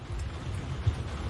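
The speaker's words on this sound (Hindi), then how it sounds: "कितनी तेज बारिश हो रही है।" Heavy rain pours steadily in a dubbed period drama scene, a dense close wash of drops with a low rumble underneath and a single brief thud near the end, no voices over it.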